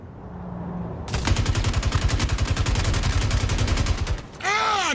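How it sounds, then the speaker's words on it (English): Rapid automatic gunfire from a video game, a loud sustained burst of closely spaced shots lasting about three seconds, followed by a short ringing tail. "I heard a gun."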